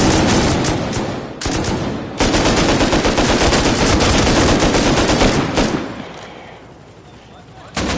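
Gunfire in Rust rattles in loud, rapid automatic bursts from several shooters at once, nearly continuous with brief gaps, then thins out at the end, with players' voices mixed in.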